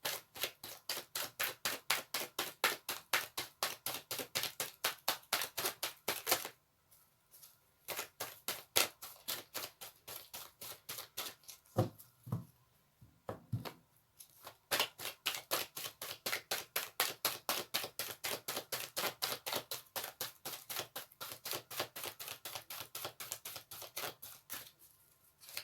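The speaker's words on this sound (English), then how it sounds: "All you're going to hear is me shuffling." Tarot cards riffle and snap in long, dense runs of quick flutters, pausing briefly midway for a few softer taps before shuffling resumes, close and steady with no talking.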